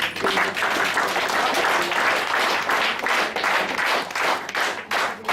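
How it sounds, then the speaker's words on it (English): An audience at a diabetes center workshop applauds a visiting team with sustained, dense clapping, loud and close, continuing unbroken from start to finish with no talking. "I would very much appreciate giving a big hand of applause."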